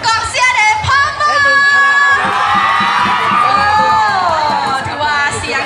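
A loud cheering squad shouts and whoops at a papaya salad pounding contest, a dense mass of voices rising together and holding for several seconds, with rhythmic thuds beneath.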